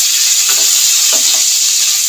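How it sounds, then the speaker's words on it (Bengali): Cauliflower fries in hot oil for a mixed vegetable moong dal, producing a loud, dense, unbroken sizzle up close, with faint stirring scrapes beneath the crackle. "গরম তেলের মধ্যে এবার সবজিগুলো এক এক করে সব ভেজে নেব। ফুলকপিটা দিলাম,"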